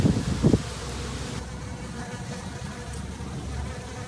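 Honey bees buzz around a gazebo in a steady, close, continuous hum that stays even throughout, with a brief louder rustle at the start.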